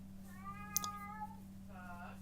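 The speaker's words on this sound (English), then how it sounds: "I don't know if you can hear my cat crying outside" A pet cat crying outdoors, a drawn-out plaintive meow followed by a shorter second cry, faint and distant behind a steady electrical hum, with a click partway through.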